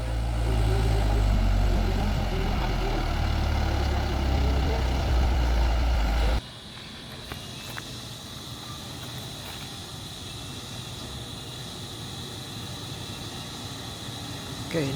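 A trailer truck's diesel engine rumbles loudly and steadily at close range during the recovery of a stuck truck, then the sound drops off abruptly to a quieter, distant background hum.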